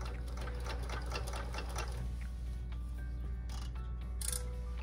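A sewing machine stitches silk panels with the pins left in, giving a steady, close mechanical whir and rapid needle ticking that runs unbroken with no voices.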